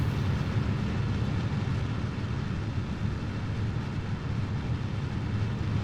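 Rocket main engine igniting at launch in Kerbal Space Program, a steady, loud, dense low roar that holds constant throughout with no voices.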